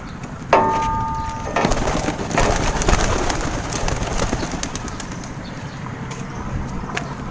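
Racing pigeons on a training toss flap their wings in a burst and coo nearby, the fluttering loud at first and then fading under a steady outdoor background.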